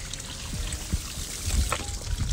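Water runs from a tap in a continuous, fairly faint splashing trickle with low bumps and knocks around it, and no one speaking.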